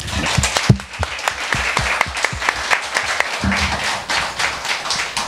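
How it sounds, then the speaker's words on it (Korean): An audience at a book concert clapping in encouragement, dense close applause with distinct sharp claps rising and falling irregularly. "격려의 박수 한번 부탁드립니다"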